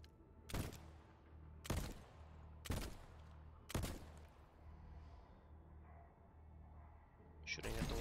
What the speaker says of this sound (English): Shooting at the walls won't help